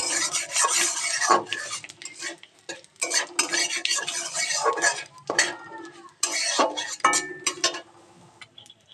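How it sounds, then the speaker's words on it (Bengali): A spoon stirs bay leaf and dried chillies in a pan for a masala rice recipe, giving repeated close metallic scrapes and clinks against the pan over a light sizzle in uneven bursts. "এটাকে নাড়তে থাকবো ভালো করে"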